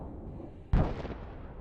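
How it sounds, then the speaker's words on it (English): A stock of Russian munitions hit by Ukrainian kamikaze drones explodes in one sudden, heavy blast that rolls off into a fading rumble, alone against quiet background noise. "The powerful explosion means that a large stock of Russian munitions was eliminated."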